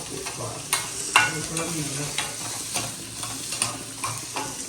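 Onions sauté in a pan for mutton offal dishes: a continuous hiss of frying, broken by regular scraping stirs of a spoon against the pan, close and fairly loud with no speech.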